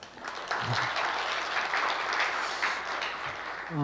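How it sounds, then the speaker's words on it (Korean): Church congregation applauding during a Sunday worship service, a steady dense wash of many hands clapping that holds at an even level for several seconds with no talk over it. "박수 한번 주세요."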